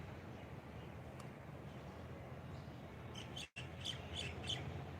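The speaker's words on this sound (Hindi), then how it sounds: "पक्षियों की चहकती हुई मधुर आवाज़" Outdoors on a mild morning, small birds chirp and tweet faintly in the distance over soft background hiss, with a brief burst of quick repeated calls near the end.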